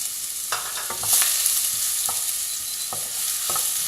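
Onions and leftover chorizo fry in a pan with a steady close sizzle, broken by several scraping stirs of a utensil against the pan, no voices.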